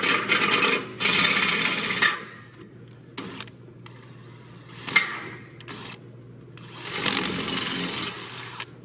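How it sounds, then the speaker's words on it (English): A power drill enlarges a bolt hole to 3/8 inch, in loud bursts of whirring separated by short pauses, close up with no talking. "A lot easier to drill when you pre-drill the hole."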